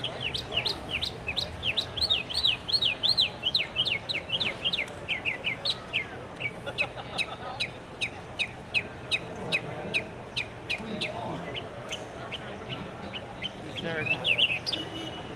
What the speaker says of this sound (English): Boy, you're in a good mood, Mr. Bird.